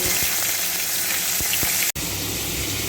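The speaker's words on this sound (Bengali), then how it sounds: "এবার এই তেলের মধ্যেই আমি চিংড়ি মাছটাকে হালকা হালকা করে ভেজে নেব" Marinated prawns fry in hot oil in a wok with a dense, steady sizzle and crackle that drops out for an instant near the end before continuing.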